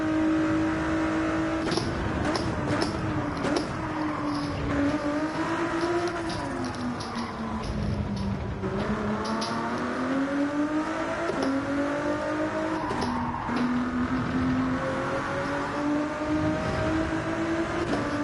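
A Ford GT 2018 race car engine in a racing video game holds a loud continuous drone, its pitch climbing and dipping through gear changes and throttle lifts for the whole stretch, with no talk.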